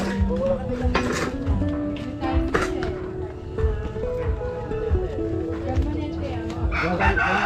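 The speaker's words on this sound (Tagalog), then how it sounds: "mga sikat na manok yung kay Kongko na yun." A rooster crows repeatedly amid a busy farmyard, with people talking nearby throughout.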